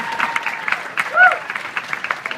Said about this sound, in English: Thank you, clap for them.